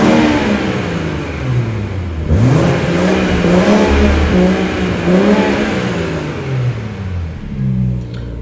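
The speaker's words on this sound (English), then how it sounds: "Warmed up a little bit earlier so you can hear the revs." A BMW M240i engine, warmed up, revs up and down repeatedly, its pitch rising and falling in sweeping waves, loud and close with a steady rumble underneath.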